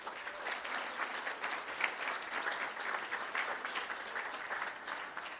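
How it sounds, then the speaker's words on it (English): Applause at a school board meeting honouring students, a moderate, even round of clapping from a seated audience that stays steady from start to finish. "Let's give them a round of applause."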